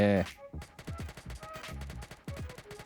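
Rapid bursts of gunfire in a GTA V-style mobile roleplay game, sharp repeated shots in quick clusters, close and loud, starting right after a brief loud sound at the beginning.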